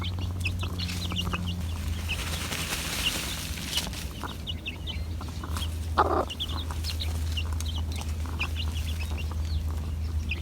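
Chickens cluck and murmur throughout, with a louder squawk midway, over a constant low hum in the background; no one speaks.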